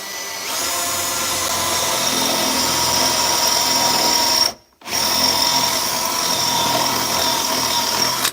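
A power drill bores into metal while someone works on a Ford Ranger truck, running loud and steady for about eight seconds with one brief stop partway through.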